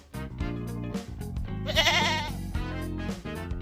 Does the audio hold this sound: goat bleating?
yes